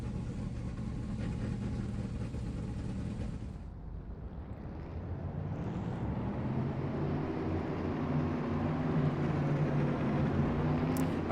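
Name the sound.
race car engines running at ISM Raceway, racing video game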